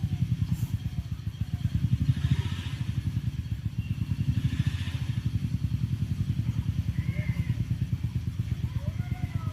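A motorcycle fitted with a CD engine that has an engine problem chugs at idle, close and loud, with an uneven, knocking rhythm and faint voices in the background.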